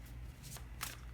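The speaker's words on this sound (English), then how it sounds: "as I was shuffling the cards" Large tarot cards are shuffled in a quiet room, giving two or three soft papery riffles and slaps, close and fairly faint, with no speech.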